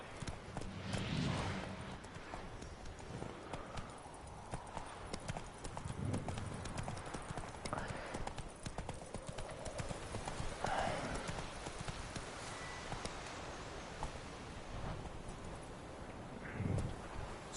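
A horse trots along in The Witcher 3: Wild Hunt on PS5 with steady, rhythmic clip-clop hoofbeats, soft wind noise and an occasional faint snort. The whole passage is quiet.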